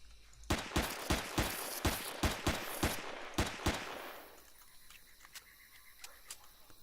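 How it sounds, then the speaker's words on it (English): Pistol shots in the video game Empyrion, a rapid string of about ten sharp, loud cracks, fairly evenly spaced, after which the firing gives way to fainter scattered clicks and impacts. "It's such a lousy pistol."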